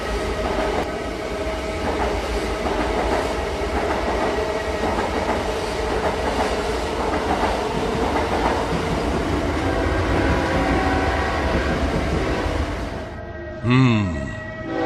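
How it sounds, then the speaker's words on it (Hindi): Shatabdi Express train pulling into a station at night, a loud steady rumble with wheels clattering on the rails, then slowing with a brief squeal near the end. "रात के 8 बजे शताब्दी एक्सप्रेस स्टेशन पे आती है।"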